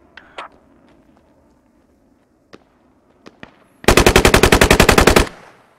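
Automatic gunfire in the video game Squad: a few scattered single shots, then a loud, rapid sustained burst of about fifteen rounds that ends abruptly.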